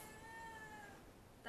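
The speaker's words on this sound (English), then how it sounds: "That's my cat." A cat gives a single drawn-out meow, faint and somewhat distant, over a quiet indoor background.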